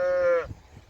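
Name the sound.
cattle mooing on an Irish farm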